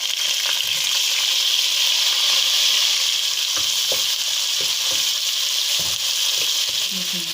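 Loud, steady sizzling of garlic-ginger paste frying in hot oil, with occasional stirring scrapes and small pops, close up and without speech.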